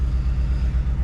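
A Ford F150 4x4 pickup engine idles with a steady low rumble and a faint rhythmic pulse, heard close up and alone with no talking.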